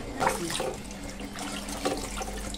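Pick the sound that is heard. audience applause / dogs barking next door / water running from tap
water running from tap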